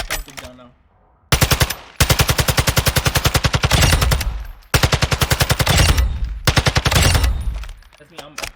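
Automatic gunfire in Warzone 2 with the trigger held down, loud rapid bursts of machine-gun fire broken by short pauses, several sustained volleys in a row.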